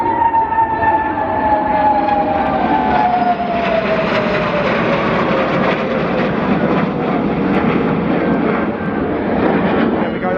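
L-15 jet aircraft completing the final manoeuvre of a solo flying display at the Farnborough International Air Show, a loud continuous jet roar with a descending whine as it passes, steady throughout with no clear speech.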